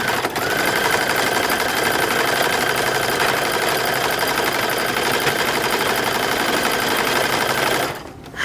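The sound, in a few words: sewing machine stitching the 1940s bathing suit midriff front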